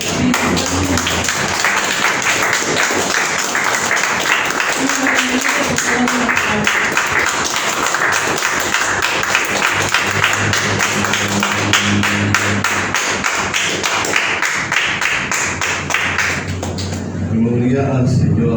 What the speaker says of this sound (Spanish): Un fuerte aplauso para el Señor y para el Espíritu Santo.